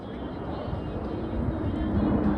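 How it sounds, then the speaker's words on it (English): A military jet flies over an amusement park, its engine a steady, moderately distant roar that holds level and swells slightly toward the end, with no talk over it. "Wow, some kind of like military jet."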